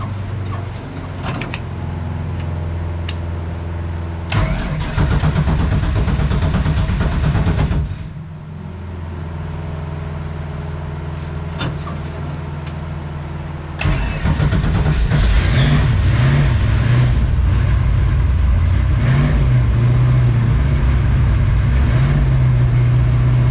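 A 1967 Ford Mustang with a carburetor, started after sitting for a few months, cranks and catches several times, then settles into a loud, close, lumpy idle and rises into revving bursts.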